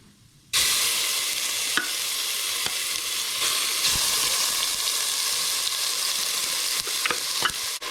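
Green paste frying in a hot pan, a loud steady sizzle that starts abruptly and carries on, broken by several scraping stirs and clicks of a utensil, with no voices.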